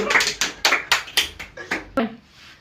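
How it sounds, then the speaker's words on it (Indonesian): A class claps hands together in a classroom lesson, a string of about eight distinct, fairly close claps in a loose, uneven rhythm, fading out after the last one. "Beri tepuk tangan dulu."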